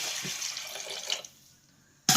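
Water poured or drained off while cooking a Kerala-style egg curry with chili-powder paste; a close, steady watery rush lasts about a second, then cuts off to near silence before a brief loud knock.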